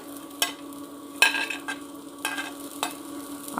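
Carrot and capsicum fry in hot oil, with a low steady sizzle punctuated by several loud, scraping stirring bursts from a spatula, close by and without speech.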